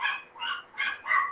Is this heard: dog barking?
yes